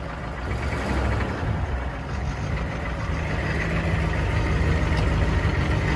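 A Humvee's engine rumbles steadily at close range, a dense low drone that holds fairly constant with slight swells as throttle is applied, with no talking.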